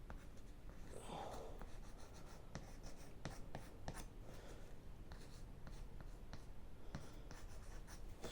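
A pen or marker scratches steadily on a small plant label for cherry tomato seedlings, a close, continuous scribbling with short strokes and ticks, with no talking.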